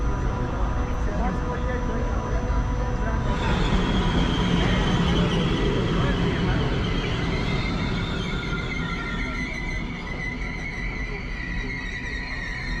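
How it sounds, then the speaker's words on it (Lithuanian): Passenger train arriving at a station on the Budapest–Ljubljana–Zagreb route, a continuous loud rolling rumble with high tonal wheel squeal sliding in pitch partway through, no clear talk over it. "Traukinys šiek tiek vėluodamas atvažiavo ir reikia susirasti savo vietą"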